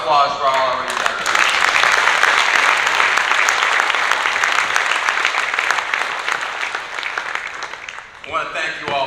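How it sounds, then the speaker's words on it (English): A crowd at a high school athletic hall of fame induction ceremony applauds the inductees with dense, loud, sustained clapping for about seven seconds that tapers off, with a voice speaking just before and after. "How about a round of applause for all our inductees?"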